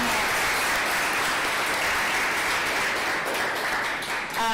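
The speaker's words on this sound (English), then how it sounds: "Round of applause for our fantastic interpreter, Avila" Audience applause at a live poetry reading event, dense steady clapping from a room full of people that stays loud and even before thinning out at the very end.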